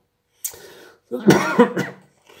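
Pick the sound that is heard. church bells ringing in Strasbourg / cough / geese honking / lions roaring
cough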